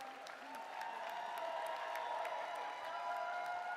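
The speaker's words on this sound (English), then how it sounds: "Clap loud, San Diego" Convention crowd at a California Democratic Party general session in San Diego breaks into sustained applause, a dense steady wash of many hands with some cheering, moderately distant and continuous throughout.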